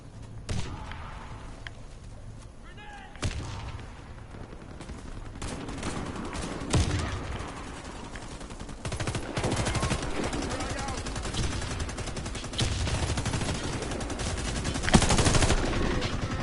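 Rapid video game gunfire crackles in bursts through a hectic match round, fairly loud and continuous with dense shots stacking up toward the end, while a player talks over it.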